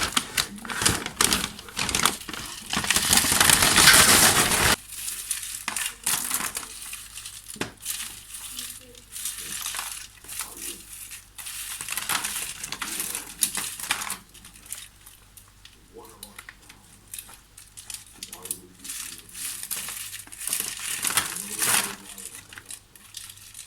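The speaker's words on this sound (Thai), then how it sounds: "ทีนี้เราก็จะเทลงในถุงนะคะ" Dried yellow mushrooms, crisp and brittle, tipped into a paper bag, making a loud rustling, rattling burst for a few seconds before quieter handling noises and soft crinkles with someone speaking over them.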